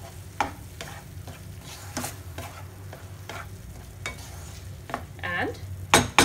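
An oats dish gently mixed with ghee in a pan: soft rhythmic scrapes of a spoon against the pan over a low steady hum, with a louder clatter at the end.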